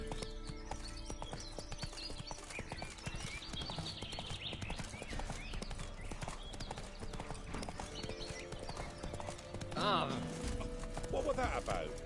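Horse hooves clip-clop in a steady galloping rhythm throughout, ridden through The Witcher 3 video game, with a brief whinny near the end and occasional talk over the hoofbeats.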